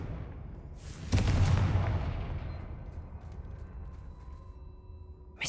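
A Confringo blasting spell bursts in Hogwarts Legacy, a single sharp explosive crack followed by a decaying rumble, fairly quiet overall against soft game ambience.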